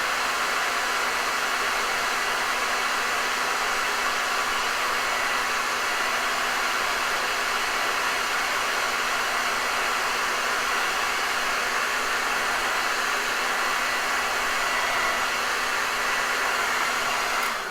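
A hair dryer blows on thick, wet white paint during a live painting demo of rocks and fall trees, making a loud, constant, close whooshing whir throughout with no talking.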